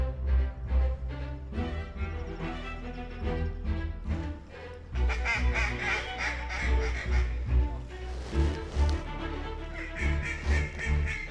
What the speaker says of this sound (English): They're wood ducks.